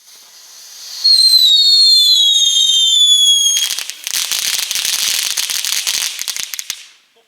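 Consumer fireworks from a category 1 showbag pack go off nearby: rising whistles screech for a few seconds, then give way to a loud, crackling burst of rapid pops that fades out at the end.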